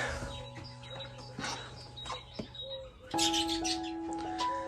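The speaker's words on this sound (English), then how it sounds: "Little birdies in there." Small birds chirp and tweet outside an open rear door of a house in Kenilworth Gardens, Melksham, with repeated short bright calls at moderate distance over a soft background hum.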